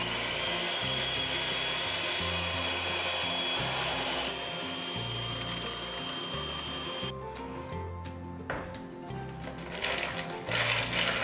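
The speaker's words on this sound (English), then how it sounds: "Then slowly blend them together." Homemade lightweight face cream for mature skin being blended from its ingredients, a steady close-up motorized whir that hums on continuously with a slight shift in tone partway through, with no talking.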